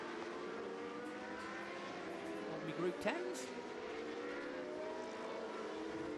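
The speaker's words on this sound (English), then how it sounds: "it's great to hear raw engines again. Those DFVs are, they just makes your heart sing" Historic DFV-engined race cars roar past at the Mario Andretti Trophy race during the Monterey Motorsports Reunion, a steady raw engine drone with one car sweeping close by near the middle, heard under a commentator's voice.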